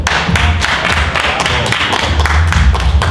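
An audience at a live poetry performance at a garden ball claps for mothers, with close, busy, uneven applause that stays loud throughout.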